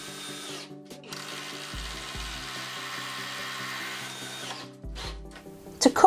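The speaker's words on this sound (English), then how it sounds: "drilled and screwed to the wall" A power drill runs continuously at close range, its motor humming as it bores into a wall, with short pauses and a few clunks at the end.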